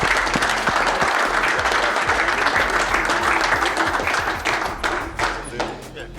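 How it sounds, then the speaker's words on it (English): Dense applause from a crowd, loud and continuous, with a few voices mixed in, thinning slightly toward the end. "So let's hear it for Brendan."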